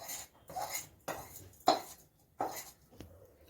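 A spoon scrapes and knocks against a metal pot as rice is stirred into hot milk with a bay leaf for payesh. There are about five quiet, separate clinks and scrapes with short pauses between, and no talking.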